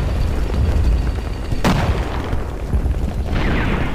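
Artillery shells bursting in the Men of War strategy game, a dense rumbling battle bed with one sharp, loud explosion cracking through partway and a fainter blast near the end.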